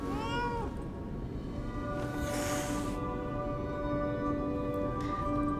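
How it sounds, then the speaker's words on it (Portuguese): A cat meows in the Lies of P video game, a short plaintive cry at the start, heard over a loud, continuous game soundscape with droning tones and occasional soft swooshes. "É o gatinho."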